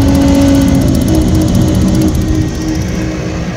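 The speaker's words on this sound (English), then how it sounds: "We have ignition." The gas burner of a Lennox packaged rooftop unit fires and runs with a loud, steady roar and hum that eases slightly toward the end, with no talking.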